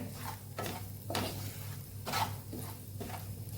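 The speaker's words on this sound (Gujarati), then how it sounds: "અહીંયા મસાલાને સરસ સાતડી લેવાનું છે" Spice masala with a pinch of turmeric is sautéed in a pan over a low flame for a red chili pickle, with a spoon scraping and stirring in slow repeated strokes over a soft, steady sizzle.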